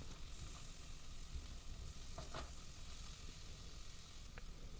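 Chopped tomato is stirred into onion, ginger, garlic and green chilli frying for a Kerala chicken stew, giving a faint, constant sizzle with a few soft stirring scrapes and no talk.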